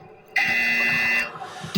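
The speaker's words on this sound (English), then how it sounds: "we got another buzzer" A loud, steady electronic buzzer blares for about a second on a live discussion show, then cuts off and leaves quiet room sound.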